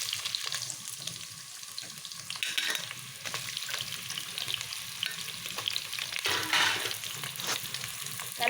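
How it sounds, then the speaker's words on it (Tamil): Radish with green chilli and curry leaves fries in a pan for sambar, a continuous close sizzle broken by scraping stirs and a stronger hiss near the end. "முள்ளங்கி நல்லா வதங்கி வரட்டும்"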